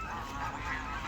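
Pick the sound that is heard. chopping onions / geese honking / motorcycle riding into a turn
geese honking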